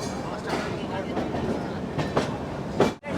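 A passenger train, the Ananya Express, pulls into Jaipur station, a steady rumble and clatter of rail cars with brief louder bumps near the end and a momentary dropout.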